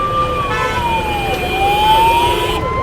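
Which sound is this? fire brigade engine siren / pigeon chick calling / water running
fire brigade engine siren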